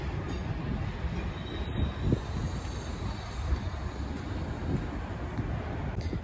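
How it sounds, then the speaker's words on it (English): Union Pacific freight train passing in Roseville, a continuous heavy rumble of rolling wagons with faint wheel squeal, close and steady for the whole stretch with no talking. "Saw a couple trains."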